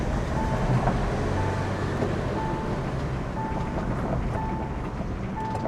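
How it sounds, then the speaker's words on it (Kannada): A Mahindra Thar 3-door SUV with a diesel engine, heard from inside the cabin while driving: a steady low drone with road rumble and a faint periodic whine, continuous and moderately loud. "ಸೊ ಡೀಸೆಲ್ ಇಂಜಿನ್ನು ಪಕ್ಕಾ ಫೀಲ್ ಆಗ್ತಾಯಿದೆ."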